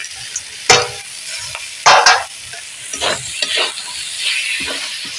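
Leafy greens and potatoes being stir-fried in a pan for a spicy clam curry, with scraping stirs and sharp bursts of hot sizzling over a steady low frying hiss, close and fairly loud, no talking.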